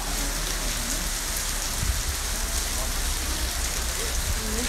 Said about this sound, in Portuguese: E a chuva tá pegando aqui em SP, hein?